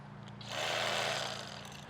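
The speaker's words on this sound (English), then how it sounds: "So we're gonna use this Bubba electric fillet knife. This thing just saws right through fish." A Bubba electric fillet knife saws through a walleye, giving a brief buzzing rasp of about a second that swells and fades over a low steady motor hum.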